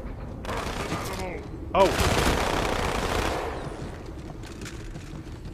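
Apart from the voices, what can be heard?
gunfire in video game Halo 2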